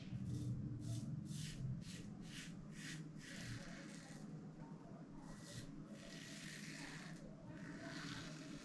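A Karve safety razor with a CB plate makes a first shaving pass over a lathered face, giving close, rhythmic scraping strokes in short bursts, followed by longer, softer rasping passes.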